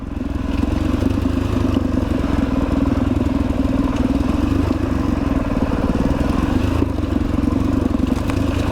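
An adventure motorcycle works along a rough fire trail in the Blue Mountains near Sydney. Its engine makes a steady, throbbing close drone mixed with clattering and rattling from the terrain.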